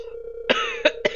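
A person coughs three times in quick succession, harsh and close, after a low hum, with no talk over it.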